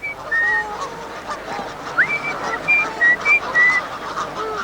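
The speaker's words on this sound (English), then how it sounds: "Here come the swans now." Swans on the lake at Slimbridge give a string of short nasal honks at feeding time, several calls close together, some overlapping, above a soft background.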